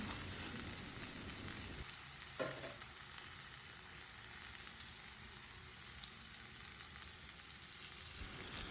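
Hot masala with potatoes for an egg poach curry sizzles steadily in the pan until a little water is poured in, causing a brief burst and a shift in the frying hiss that then continues evenly.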